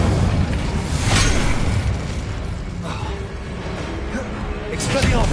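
The Incendio fire spell cast in the video game Hogwarts Legacy: loud, rumbling bursts of flame and booming whooshes over a dense, continuous background of game noise.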